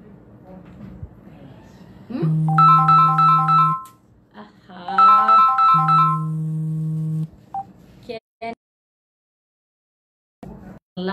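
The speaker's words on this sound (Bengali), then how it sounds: "phone tone কাটছো" A phone ringtone plays in two loud bursts of repeating electronic tones, each lasting about a second and a half, separated by a short gap, with brief clicks and a few faint voice fragments afterward.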